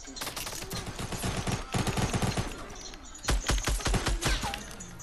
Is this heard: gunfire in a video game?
yes